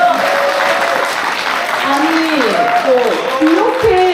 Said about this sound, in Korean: 여러분 박수 한번 부탁드립니다